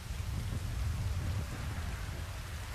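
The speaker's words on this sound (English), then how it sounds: "It's raining." Steady rain, a dense continuous patter with a low rumbling undertone, even and moderately loud with no voices.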